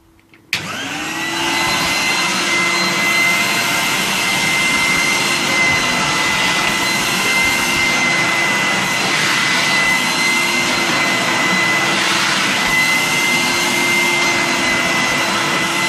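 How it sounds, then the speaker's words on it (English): A vintage 1988 Numatic Henry HVR200 cylinder vacuum cleaner starts up and runs with a steady, loud motor whine and airy roar for about fifteen seconds, close by and without talk. "So I'll shut up now and turn it on."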